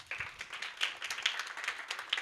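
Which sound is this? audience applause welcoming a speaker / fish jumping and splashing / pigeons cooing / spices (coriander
audience applause welcoming a speaker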